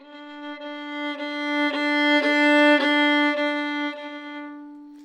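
A violin bowing a single open string in one long sustained tone, swelling from soft to louder and easing back to quiet, with faint bow-change pulses along the way, played solo.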